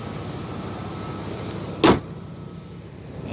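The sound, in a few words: 1998 Ford Expedition engine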